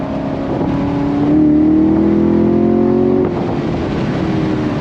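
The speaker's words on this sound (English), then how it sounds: "Love the sound of this car." A 2021 Chevy Camaro Shock & Steel Edition engine revs up loudly and steadily, its pitch climbing as it accelerates, then eases back to a lower drone.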